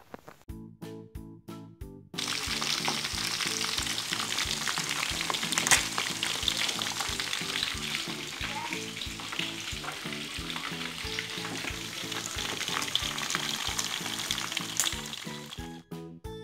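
Braised chicken pieces, already stewed tender, sizzle steadily in hot frying oil, a dense crackling hiss that swells after a brief quieter start over a backing of rhythmic music.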